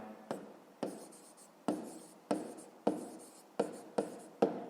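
Handwritten strokes on paper while solving a fifth-grade maths exercise, about eight sharp scratchy pen or chalk taps and scrawls in an even rhythm, close and clear with no talk.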